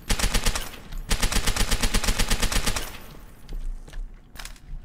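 An MP40 submachine gun fires at a wall in Call of Duty Zombies, loud rapid bursts of close automatic shots in a steady rhythm that break off near the end, leaving a few scattered sounds.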